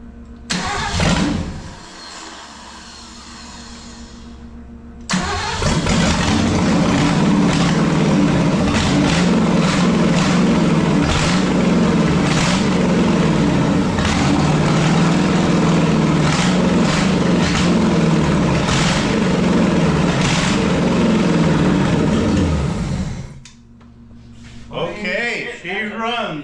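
A 1955 Ford truck engine, run with no exhaust or mufflers, cranks briefly, then catches and runs for about eighteen seconds. It gives a loud, raw, rapid mechanical clatter before shutting off, with voices heard before and after.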